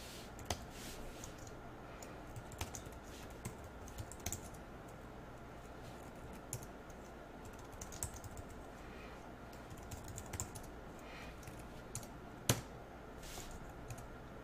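Steady, irregular clicking of a computer keyboard as someone types entries into a web form; the keystrokes are soft and close, with occasional louder taps and no voices.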